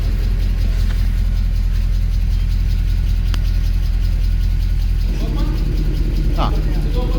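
Cold 2014 Mercedes C63 idling with its exhaust flaps open, a deep steady rumble with a slight lift near the end and faint voices in the background.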